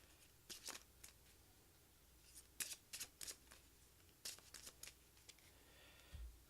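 Playing cards being shuffled for a Clank! board game, a series of quick, crisp riffling bursts in irregular clusters, close and fairly quiet with no talking.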